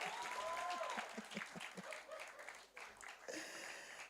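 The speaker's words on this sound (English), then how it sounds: "Please keep your applause going until she gets on stage." Applause from an audience at a startup pitch and grant event rises as a panelist heads to the stage. The clapping is faint and fairly distant, with a few voices and crowd murmur mixed in, fading slightly before swelling again.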